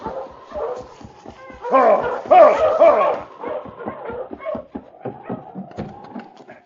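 A sled dog in a Yukon radio drama barks and yips in quick excited bursts with whining tones, loud and close, mixed with staged commotion.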